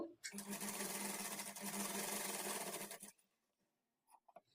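Close sewing machine running steadily for about three seconds as it stitches the folded edges of fabric pieces for blouse latkan tassels, then stopping, with faint handling taps afterward.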